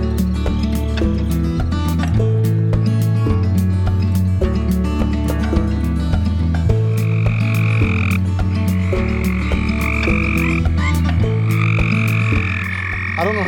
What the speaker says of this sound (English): in the background you can hear all these frogs